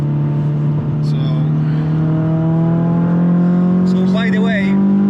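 Renault Clio Trophy engine holding a steady, loud drone on a frozen, icy road in sub-zero conditions, pitch creeping upward as gas is kept on, with brief tire and road noise flaring near the end.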